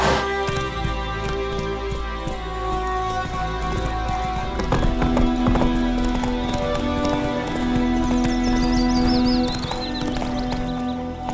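Roach, the horse in The Witcher 3 game, gallops in a steady, continuous rhythm of clip-clop hoofbeats, loud and close throughout, with game music and ambience layered underneath.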